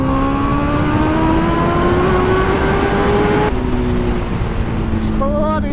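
A Kawasaki Ninja H2 motorcycle accelerating hard in third gear, its engine note climbing steadily for several seconds, then dropping briefly at a shift. A loud, close, continuous roar sits under heavy wind noise.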